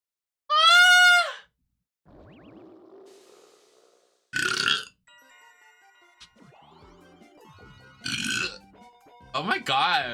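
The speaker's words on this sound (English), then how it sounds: "Why am I burping so much?" Loud burps from a person during a Mario Party 7 game session, several separate belches spread out, with game music and sound effects in the background.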